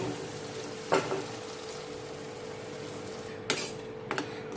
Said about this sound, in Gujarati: 3 થી 4 મિનિટ આપણે પાલકની પ્યોરીને સારી રીતે તેલમાં સતળાવા દેશું